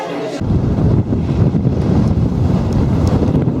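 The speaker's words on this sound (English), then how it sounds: "Yes, it's blooming windy." Strong wind at Bray Lake buffets the microphone in a loud, continuous low roar that starts abruptly and stays rough and gusty without a break.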